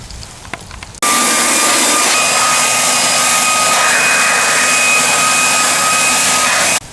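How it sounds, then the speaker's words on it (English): Leaf blower cleaning leaves and dirt off a lawnmower, kicking in abruptly after a second and roaring as a loud, steady high-pitched whoosh close by before cutting off at the end. "What I like to use is a blower."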